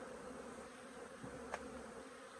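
A honeybee colony hums in a continuous, faint buzz around the hive, with one brief sharper sound partway through.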